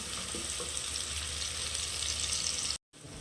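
Onions sautéing in a pan for vegetable pulao, a continuous close sizzle and crackle of frying with a faint stirring texture, briefly cutting out near the end before resuming.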